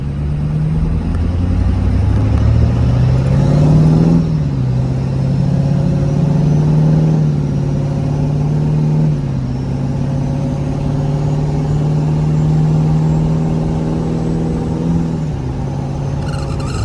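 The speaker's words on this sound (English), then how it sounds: "we'll do a quick little acceleration" A truck fitted with a swapped LB7 Duramax diesel and a Billet S369 turbo accelerates steadily, the engine droning loud and close with a rising pitch and two brief dips as gears change, no talk over it.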